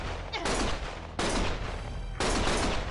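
Sustained bursts of automatic gunfire in the video game Lost Judgment, three dense loud volleys back to back with brief breaks between them.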